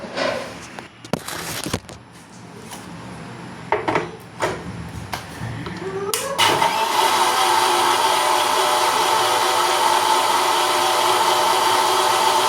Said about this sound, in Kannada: ಇವಾಗ ಮತ್ತೆ ನಾವು ಒಂದೆರಡು ಸುತ್ತ ಮಿಕ್ಸರ್ ಮಾಡ್ಕೊಳ್ಳೋಣ.